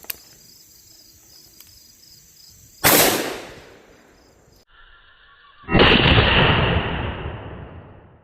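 Taurus Judge Executive 6.5-inch revolver firing 8-shot shotgun shells at about 7 yards: two loud, booming shots a few seconds apart, each with a long ringing decay, against quiet outdoor background.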